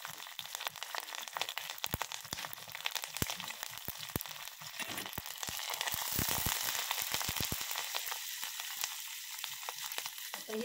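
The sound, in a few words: tempering of mustard, cumin, green chili, curry leaves frying in oil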